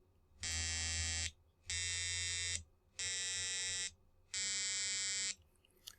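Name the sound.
four simultaneous tones generated by microcontroller timer interrupts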